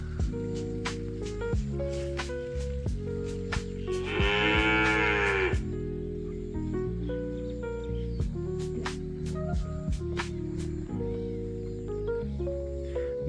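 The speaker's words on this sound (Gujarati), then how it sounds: "આ છે આપણા પશુઓ" Cattle on a Gujarati farm near Iqbalgadh give one long, loud moo partway through, heard over a rhythmic background music track.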